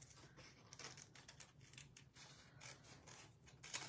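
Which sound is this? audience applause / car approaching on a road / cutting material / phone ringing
cutting material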